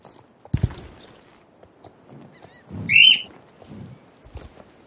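Horse hooves clip-clopping in the online riding game Star Stable Online, a few soft scattered steps with a short bright whinny-like call in the middle, fairly quiet overall.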